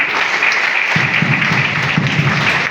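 An audience at a business success-story gathering breaks into loud, close applause that starts abruptly and keeps up as dense steady clapping.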